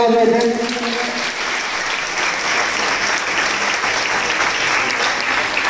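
A seated audience claps loudly and steadily at a student felicitation ceremony, a dense sustained wash of applause right after a brief burst of speech at the start.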